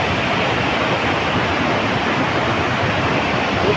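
Water rushes over a dam in a loud, steady roar of broadband noise, close and unbroken throughout with no voices.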